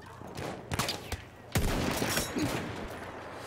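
Gunfire in the World War I shooter Battlefield 1, a rapid scatter of fairly loud shots and cracks over a noisy battlefield background, with no talk over it.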